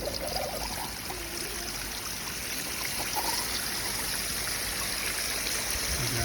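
An aquarium pump runs at full speed, filling the clip with a steady, continuous rush of splashing and trickling water that sounds close and unbroken throughout.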